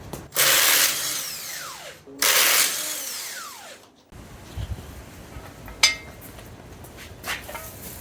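Impact wrench zipping lug nuts off a Ford Fusion wheel in a garage brake job: two loud, close bursts of about two seconds each, followed by quieter clinks and handling noises.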